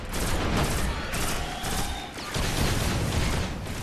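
Sustained bursts of rapid video game gunfire fill the whole stretch, loud and dense with repeated shot clusters, steady throughout with a brief dip near the middle and no talking.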